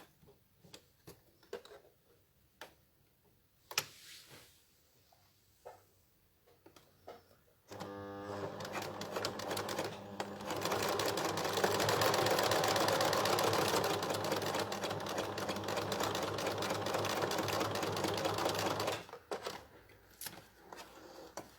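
A sewing machine stitches a holding seam on a bag, running in a fast, steady rattling burst for about ten seconds after some quiet handling clicks, then stopping abruptly.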